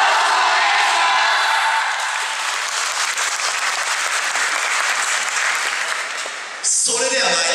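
Loud, dense audience applause and clapping along at a 2016 Noda university festival YOSAKOI Soran dance performance by a Tokyo University of Agriculture club, sustained and steady with scattered shouts, then cutting abruptly to a different bright burst near the end.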